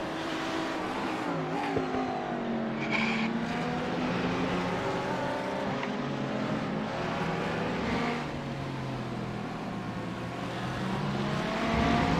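Race car in the iRacing sim at Imola sliding sideways, its engine droning steadily with shifting revs while a thin squeal of tyres rides over it, continuous and close.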